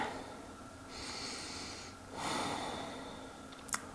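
Slow, deep breaths drawn in and let out through the nose during a yoga hip stretch, soft and close, with a long inhale and exhale and a faint sniff near the end.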